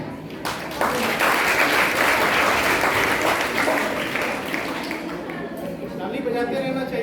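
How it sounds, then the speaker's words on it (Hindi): An audience at a school National Sports Day prize ceremony applauds continuously for about seven seconds, a dense, loud round of clapping that tapers slightly toward the end. "ताली बजाते रहना चाहिए।"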